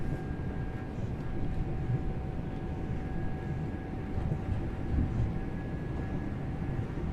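A train in Train Sim World runs on a route toward Selly Oak, giving a steady, loud, droning rumble with faint constant whining tones, continuous and unchanging throughout with no talk.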